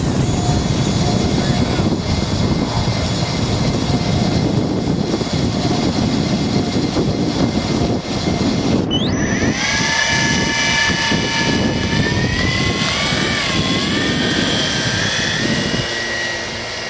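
A PCA-2 Beechnut autogyro flies overhead in gusty wind, its loud continuous engine and rotor drone filling the scene, then rising into a shifting whine as it passes.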